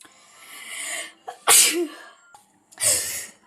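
Two sharp, loud sneezes from one person indoors, spaced about a second apart, with a softer breathy buildup before the first and quiet between them.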